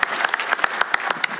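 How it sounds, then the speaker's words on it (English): Crisp applause from an industry panel audience at MWC 2023, sharp distinct hand claps in a quick uneven rhythm, close and fairly loud with no talking over it. "so André, you deserve your round of applause"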